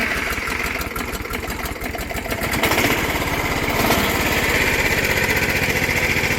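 Polaris Cyclone fitted with a 420cc engine runs nearby with a steady pulsing chug, revving up a little partway through and holding a busy, loud idle.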